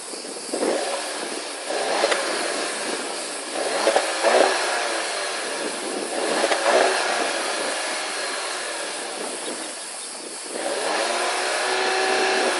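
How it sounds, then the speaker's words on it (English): A 2017 VW Golf GTI SE (Mk7.5) with a 2-liter turbocharged four-cylinder engine runs nearby, giving a steady smooth hum with a few brief swells in level. "And you have your 4-cylinder engine that roars to life."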